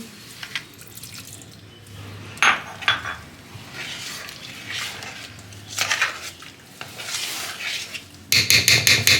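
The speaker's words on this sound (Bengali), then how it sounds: "দই বাটি ধোয়া জলটা দিয়ে দিচ্ছি" Water rinsed from a curd bowl is poured into dhokla batter, with scattered bowl clinks, light splashes and drips close by, ending in a quick run of sharp metallic taps.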